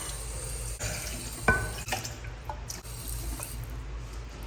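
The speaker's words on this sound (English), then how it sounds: "I think I'm gonna go ahead and give it a quick rinse anyway before I use it" A plastic cup rinsed under an outdoor water tap at Six Flags Magic Mountain, with running water splashing and gurgling close by, a few sharper sloshes and drips, and faint ambient background noise.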